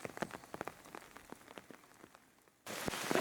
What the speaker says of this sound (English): The rain was that thick we could barely see it